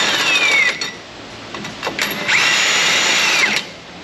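Impact wrench fitted with a torque limiting stick driving 22 mm lug nuts on a 2021 Toyota Tacoma, two loud whirring bursts separated by brief pauses and tool clatter, close by with no talk.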